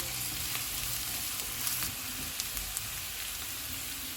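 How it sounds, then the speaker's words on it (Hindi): Onions fry in hot oil in a pan over medium heat, giving a steady, dense sizzle that holds evenly throughout with a few small crackles and pops. "ऑयल गर्म हो गया, इसमें प्याज डालेंगे। चूल्हे को मैंने मीडियम रखा हुआ है। इनको 1 मिनट तक फ्राई करेंगे।"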